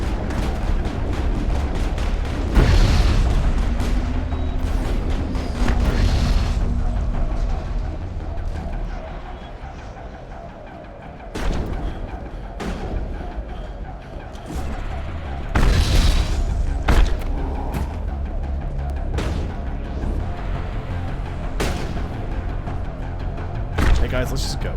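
Several loud booming blasts go off in a shooter video game involving grenades, the heaviest bursts landing near the middle of the stretch, with game gunfire and a voice talking throughout.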